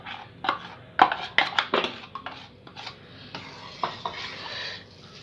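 A spoon stirring coarsely ground rice into milk in a pot, for carrot kheer: close, irregular metallic clinks and scrapes against the pot, several sharp knocks early on, then softer continued stirring without any talking.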